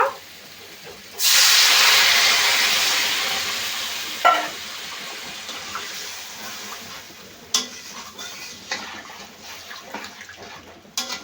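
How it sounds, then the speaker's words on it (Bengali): Water pours into a hot pan of sizzling fish curry made with silver carp and taro, setting off a sudden loud hiss that slowly fades into gentle bubbling, with a few stirring clinks near the end. "এখন জল দিয়ে দেব।"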